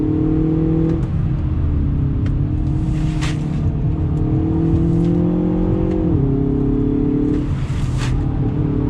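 A 2020 Hyundai Veloster Turbo hot hatch accelerates on twisty roads, its engine droning loud and steady in a continuous rising tone that dips briefly as it shifts, then climbs again, heard from inside the car.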